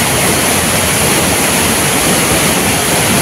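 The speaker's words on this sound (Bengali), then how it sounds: "এখন দেখতে পাচ্ছ এই ঝর্ণাটার প্রচুর স্রোত" A strong waterfall stream at the Panchalingeshwar temple roars as a steady, dense rush of water, loud and close, with no break and no voices.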